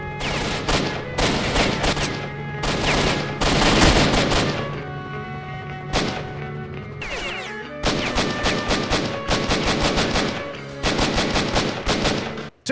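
Rapid bursts of automatic rifle fire crackle through a firefight with soldiers in S.T.A.L.K.E.R. Shadow of Chernobyl, loud and close, with short pauses between volleys and no talking.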